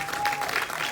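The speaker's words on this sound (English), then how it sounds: "A big round of applause for BSIFF" An audience at the opening night of the Black Star International Film Festival gives a round of applause, a brief burst of steady clapping.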